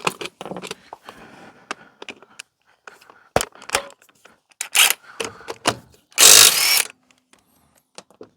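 Short bursts of a pneumatic impact wrench rattling loose car wheel nuts, several separate zips with pauses between, close and loud.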